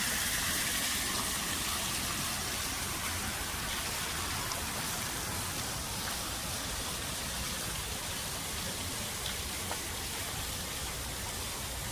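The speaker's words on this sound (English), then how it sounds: "It is more now like a straight waterfall." A straight-falling waterfall among plants beside a river at the Taste of Syracuse festival downtown, a steady, dense wash of splashing water that holds an even level throughout.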